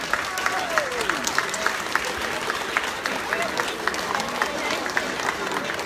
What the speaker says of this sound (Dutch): die krijgen een applaus van alle mama's en papa's en alle kinderen